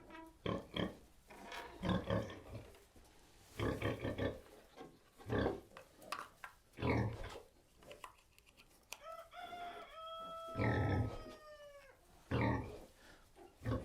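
Pigs and piglets grunt and snort in short bursts, joined by rooster crowing partway through, all fairly close with no talking.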